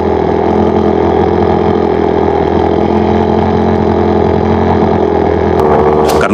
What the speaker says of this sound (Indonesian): saya memilih untuk memakai mesin biar cepat selesai